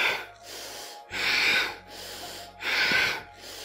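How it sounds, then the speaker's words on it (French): Audible breaths in and out during a chair yoga session, two long, airy exhales separated by a quieter inhale, close and rhythmic. "on inspire là, on expire là"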